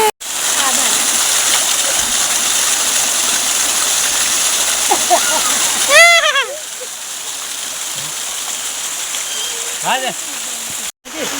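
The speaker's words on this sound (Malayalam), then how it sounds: "ഞങ്ങൾ വെള്ളച്ചാട്ടത്തിൽ നിൽക്കുന്നു" A constant rushing roar of falling water close by, with a few bird-like chirps and brief voices partway through.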